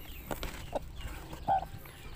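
Hens and small chicks being shut into a farm chicken coop give a few short clucks and peeps, with soft rustling between calls.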